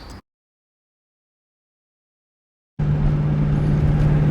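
A car engine running steadily while driving, with a constant low hum and road rumble close to the microphone, starting abruptly after a short stretch of silence.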